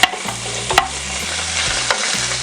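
Beef intestine fries in cooking oil in a pan, a dense, steady sizzle with crackling pops and occasional stirring clatter close up, no voices.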